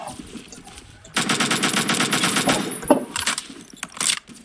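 Rapid automatic rifle fire from a gun in the video game Phantom Forces, sustained bursts loud and close for several seconds, then shorter bursts.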